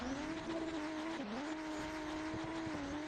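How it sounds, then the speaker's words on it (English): A BMW drift car screams at sustained high revs with tire squeal as it lights up its rear tires through the outer zone of a pro drift battle, the engine note wavering steadily and loud throughout. "Darius comes in with that BMW, lighting off the tires on that first outer zone"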